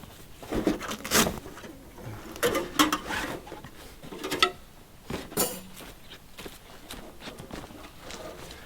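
Snow Peak pizza oven being handled and set up outdoors, with a series of sharp metallic clanks, knocks and rattles in irregular bursts, fairly close with quiet gaps between.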